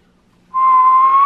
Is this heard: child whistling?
yes